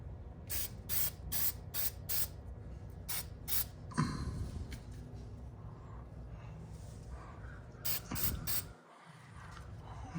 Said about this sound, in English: Spray those bolt heads.